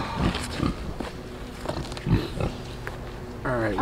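A live pig grunts and oinks in short, rough bursts close by, with some squealing toward the end, while people talk softly in the background.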